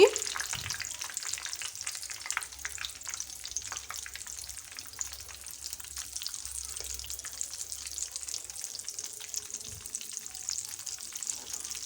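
Ulava purnam burelu, lentil-filled dumplings dipped in batter, fry in oil with a continuous close bubbling sizzle and a brief clatter near the start as one is flipped, the crackle holding steady throughout.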